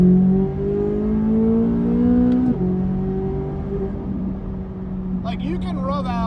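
Sports car engine pulling hard at full throttle, a steady strong tone rising in pitch, dropping briefly at a gear change and climbing again, loud and close, with a voice talking over it near the end.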